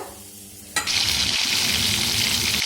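Cumin and mustard seeds dropped into hot oil burst into a sudden loud, steady sizzle that carries on close and unbroken, with a faint stir, no voices.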